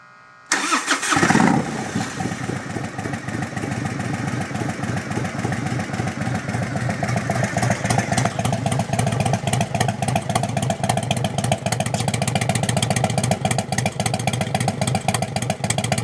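A 1997 Harley-Davidson Road King motorcycle engine cranks over and fires after a brief silence, then settles into a loud, steady, close-up idle with a rhythmic lumpy throb that continues alone.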